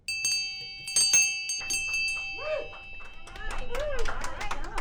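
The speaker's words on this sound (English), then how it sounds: "We have a bell we ring." A hallway office bell rings in a few quick struck strokes near the start, followed by lively voices and talk in a small business office.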